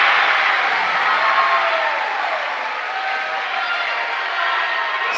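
Crowd at a girls' varsity high school basketball game roaring after a made three-pointer, a dense, loud, sustained cheer that holds steady for several seconds and eases slightly.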